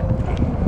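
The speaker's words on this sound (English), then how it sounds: "And it got kind of windy." Outdoor wind buffets the microphone on a street walk, a loud, low rumbling gust that fills the brief moment with no voices.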